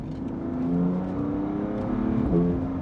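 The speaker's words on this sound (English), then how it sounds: "when you downshift, not pressing anything, it just blips" A BMW M4 on a Stage 3 tune with its engine blipping by itself on automatic downshifts, heard from the cabin as a steady low drone that swells in short throttle blips.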